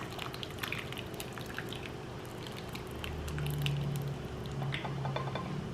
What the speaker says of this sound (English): I'll pour the sauce I had prepared earlier over the shrimp.